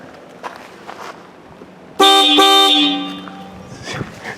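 A loud, brassy dual-tone Hella Supertone horn on a GMC truck blasts once for about a second, close by, after a quiet stretch with faint background noise.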